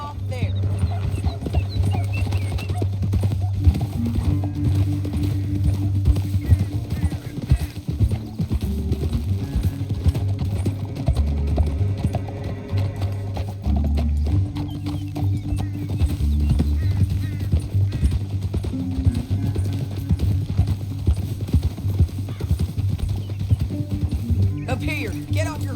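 Horses' hooves clip-clop in a steady, continuous rhythm throughout a Red Dead Redemption 2 ride through a canyon, with a low music bed and occasional voices in the game.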